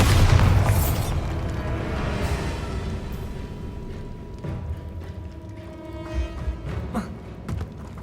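A Bombarda explosion spell cast in Hogwarts Legacy sounds as a loud booming blast at the start, followed by a long rumbling decay with scattered smaller crackles and thuds.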